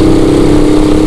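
A Rusi Caruza 200FI motorcycle engine idles loud and close, a steady even thrum with no talking.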